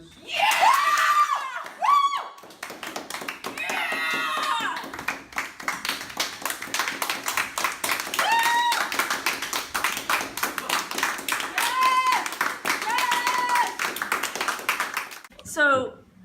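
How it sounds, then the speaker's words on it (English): A round of applause after a Q&A session, rapid rhythmic clapping from a small group that runs steadily throughout, with whoops and shouting voices rising over it at several points. "Everyone give him a round of applause."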